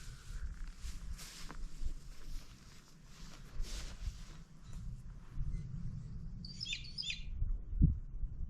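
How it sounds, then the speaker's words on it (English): Along a mountain ridgeline, a bird gives a short, high chirping call partway through, faint and somewhat distant over soft footsteps and rustling. "I'm up along the ridgeline at the moment, and I'm actually hearing a bird."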